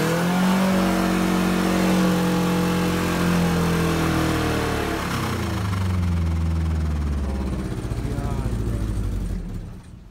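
A car with a blown engine revs hard and roughly, its pitch sliding up and down in loud, uneven sweeps for several seconds before dropping away at the end.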